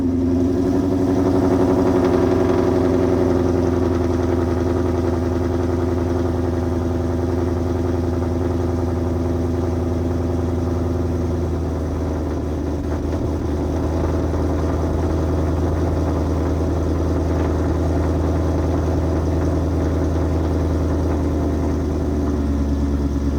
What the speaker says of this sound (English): So we'll go take it out and drive it and see how it feels.